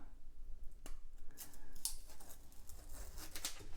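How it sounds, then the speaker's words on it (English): Scissors snip twice through adhesive-backed material during an Ikea Maximera utensil drawer modification, two sharp, close clicks a couple of seconds apart over faint room noise. "All we're gonna do, snip with the scissors."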